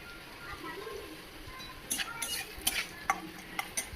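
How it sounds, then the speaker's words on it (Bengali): Carrot and capsicum frying in a pan with a little salt, a soft sizzle under quiet room noise, joined by several sharp clinks and scrapes of a utensil stirring against the pan. "আর এদিকে আমি গাজর আর ক্যাপসিকামটাকে ভেজে নিচ্ছি ভালো করে"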